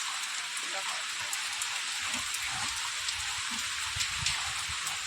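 Steady heavy rain hisses and patters on surfaces throughout, a dense unbroken wash of sound, with faint low murmurs underneath.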